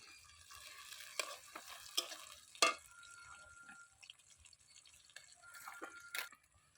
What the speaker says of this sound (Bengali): পেঁয়াজটা লাল হয়ে এসেছে দিয়ে দেব লঙ্কা কুচি